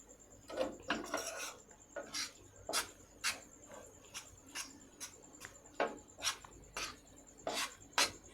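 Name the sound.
stirring milk mixture in a pan for malai naru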